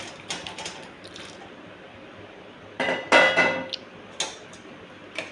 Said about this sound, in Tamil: இப்போ நான் வேக வச்ச உருண்டையை இதில் சேர்த்துக்கிறேன்.